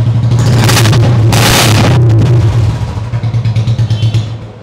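A second-owner 2020 Royal Enfield Bullet motorcycle fitted with a crash guard is self-started, cranking briefly before its single-cylinder engine catches into a loud, steady idle thump close by.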